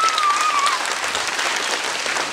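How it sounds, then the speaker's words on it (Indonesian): A crowd claps steadily during a comedic puppet show performance, with dense, continuous applause and a faint whistle-like tone near the start. "ayo tepuk tangan"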